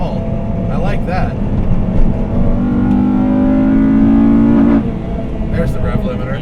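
A 2002 Honda Civic Si EP3 hatchback engine revs up steadily and holds against the rev limiter for a couple of seconds before dropping off, loud and close, with a voice talking over it.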